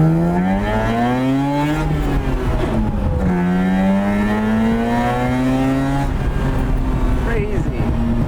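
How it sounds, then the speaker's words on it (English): A 10,000 rpm carbureted Mazda R100 climbs through its revs under full throttle, its loud exhaust note rising in pitch in repeated pulls and dropping between gear changes, with an excited voice talking over it. "As soon as you floor it. You got the carburetor, you got the exhaust tone perfectly."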